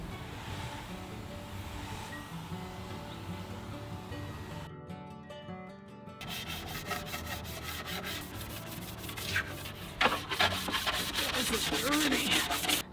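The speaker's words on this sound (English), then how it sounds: "That's why I'm scrubbing this whole piece down." Scrubbing a farmhouse furniture piece with bathroom cleaner after sanding, a steady close rasping rub that pauses briefly and then returns in quick rhythmic strokes.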